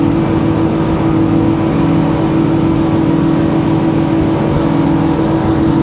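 Twin motors of a Jeanneau 10.5WA S2 boat running near wide open, about 38 knots, through a sweeping fast turn on open water: a loud, steady, unbroken engine drone with a strong low hum and no speech.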